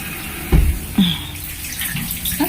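Water from a campground tap at a hotel camping ground in Cisarua, Puncak, runs in a steady hiss. A couple of louder splashes and thumps rise near the start, and no one speaks.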